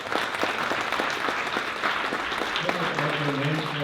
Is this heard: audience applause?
yes